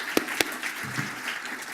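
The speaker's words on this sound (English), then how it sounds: "big round of applause" Conference audience in New Zealand gives a closing round of applause, a short burst of scattered claps fading quickly, fairly faint and without talk.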